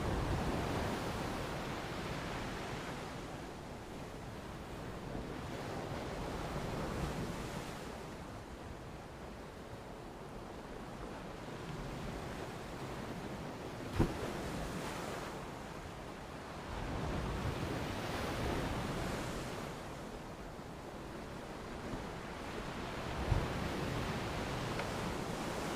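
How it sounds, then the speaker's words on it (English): Steady broadband roar of ocean surf seen from a doorstep at a wildlife waterhole, with slow swells of crashing waves rising and falling over about twenty-six seconds, plus light wind rumble and no talking. "looking out and listening to the crashing ocean waves."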